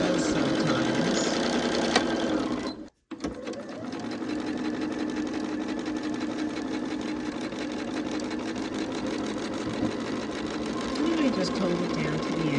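A sewing machine stitches a quilt seam for a Flowering Prism quilt, running steadily and close with a continuous motor hum and needle clatter, broken by one brief pause near the start.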